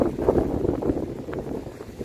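Strong wind buffets the microphone outdoors while fishing on the Western Australian coast, a low, gusty rumble rising and falling near the mic with no talking.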